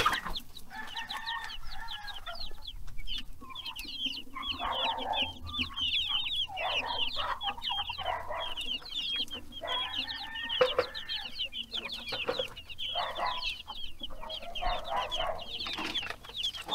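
Backyard broiler and native-breed chickens cluck steadily in the early morning in the Philippine countryside, a dense, close flock chorus of overlapping clucks and calls that never lets up.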